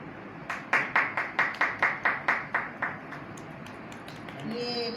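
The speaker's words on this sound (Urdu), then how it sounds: "جتنی بڑی ٹرافی اتنی بڑی تالیاں نہیں ہیں" An audience claps at a trophy presentation during a training ceremony, about ten sharp, evenly spaced claps in a short burst that then fades, with no talk over the clapping.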